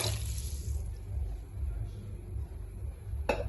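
Water pours steadily into a soup pot for chicken vegetable soup, a continuous rushing wash that stops with a short clatter near the end, without talk.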